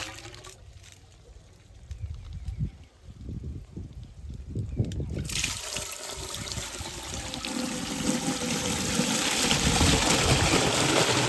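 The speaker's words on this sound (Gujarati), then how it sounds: "અહીંથી આ રીતનું પાણી આવે છે દોરિયામાંથી" Irrigation water gushes from a pipe fed by a motor pump on a Gujarat farm field readied for sowing onion seed, starting as a faint trickle and then swelling into a loud, steady broadband rush that fills the second half, with a voice heard early on.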